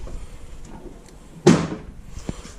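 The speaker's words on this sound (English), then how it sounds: "The door catches the fender like I talked about." The door of a Jeep XJ swings and knocks against the fender with one sharp, close thud, followed by a fainter click in a quiet shop.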